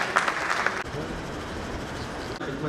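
Applause rises from the audience at a mushaira poetry gathering at a film and literary festival in Bhopal, a continuous wash of crowd clapping that is louder at first and then settles into a steady, moderate roar.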